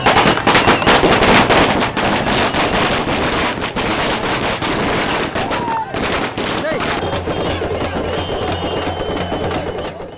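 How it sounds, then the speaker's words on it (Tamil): Party workers set off firecrackers on the Trichy airport road to welcome TTV Dhinakaran with flowers and drums. Dense, rapid crackling bursts fill the air continuously, loud and close, with crowd noise mixed underneath. "திருச்சி விமான நிலைய சாலையில் டிடிவி தினகரனுக்கு கழக தொண்டர்கள் பட்டாசு வெடித்தும் மலர் தூவியும் மேளதாளத்துடன் உற்சாக வரவேற்பு அளித்தனர்."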